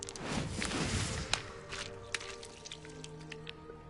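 A stone skipping across water in Hogwarts Legacy, a few faint, short splashing taps spaced out over a soft, wet game ambience.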